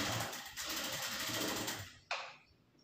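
Sewing machine stitching a blouse neck piece, a fast close mechanical whirr of the needle running steadily, ending in a short clack before it stops.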